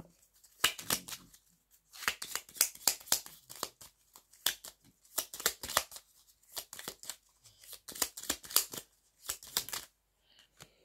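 Tarot cards are shuffled in repeated quick riffling bursts, followed by cards being drawn three at a time, with crisp papery flutters separated by short pauses and no voices.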